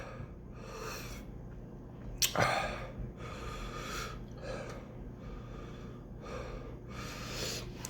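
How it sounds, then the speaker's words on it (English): Heavy breathing after eating ghost pepper noodles, a series of loud, rhythmic breaths through the mouth, close to the microphone, with one sharp gasp or snort partway through and no talking. "I'm breathing pretty heavy"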